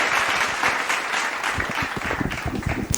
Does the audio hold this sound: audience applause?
yes